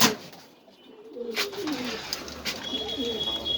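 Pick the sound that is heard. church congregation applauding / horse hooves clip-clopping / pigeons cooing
pigeons cooing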